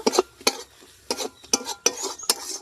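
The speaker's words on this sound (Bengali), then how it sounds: "এবারে নেড়ে নেব" Paneer posto being stirred in a wok, a spoon scraping and clattering against the metal in several quick, distinct strokes, close and fairly loud, with no voices.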